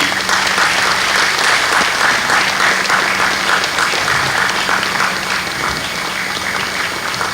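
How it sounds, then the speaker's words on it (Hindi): Audience at a Birsa Munda birth anniversary and tribal pride day celebration in Andaman applauding the winning team Harshit 11 at a trophy presentation, loud dense clapping from a large crowd sustained without a break. "हमारी विजेता टीम हर्षित 11 जोरदार तालियां हो जाए उनके लिए।"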